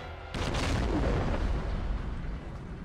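A loud explosion in the shooter game Army of Two bursts in suddenly after a brief quiet, a heavy boom with a roaring, rumbling tail that slowly decays.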